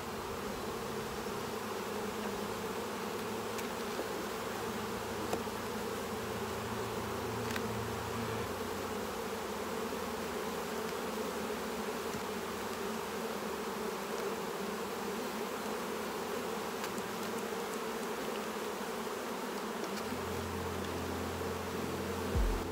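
Saskatraz honey bees hum in a dense, steady drone from an open beehive, close and continuous throughout, with a low rumble shifting underneath.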